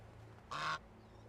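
A single short goose honk from a flock of geese in the medieval village game Medieval Dynasty, brief and moderately clear over a quiet nighttime background hum.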